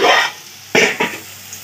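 Vegetables such as pumpkin, eggplant, potato and cauliflower frying for five kinds of fries at a home birthday cooking session, short sizzling bursts with a stir or two, close and brief.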